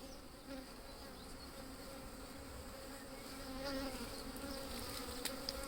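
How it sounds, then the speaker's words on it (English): A steady swarm of bees buzzing up close, a dense continuous drone that swells slightly louder toward the end, with no talking. "You can hear the sound of the bees has definitely changed."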